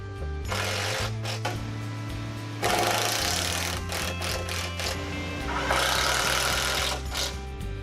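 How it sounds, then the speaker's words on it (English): Screws driven into the ends of wooden roof lookouts on a pool house gable framing job, a loud continuous whirring drill run with brief pauses and a second sustained burst, heard up close with no talk. "And 2 screws in the ends of the lookouts."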